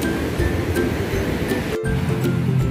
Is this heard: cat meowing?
no